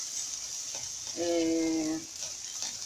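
Rice stirred with salt and oil in a pot for koshari, with a steady hiss and a brief metallic tonal scrape in the middle, no talking.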